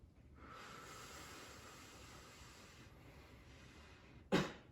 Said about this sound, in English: you breathe in through your nose for 2, and you breathe out for 6. And you breathe out with pursed lips